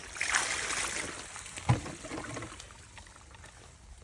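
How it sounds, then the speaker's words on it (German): Water poured by hand over a freshly caught catfish lying on a mat at the waterside, a short splashing pour that fades into a soft trickle, with no talking. "Wasser über den Fisch."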